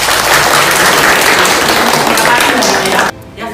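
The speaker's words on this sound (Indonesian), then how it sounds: "Kita beri tepuk tangan untuk kalian berdua." A classroom of students applauds two classmates, a dense burst of clapping from the group close by that fills the moment and then stops abruptly near the end.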